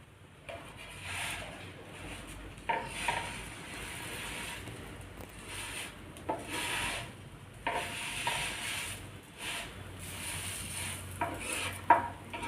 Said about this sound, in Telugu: క్యారెట్ కొంచెం, ఆనియన్ కొంచెమైనా ఫ్రై కావాలి ఇలా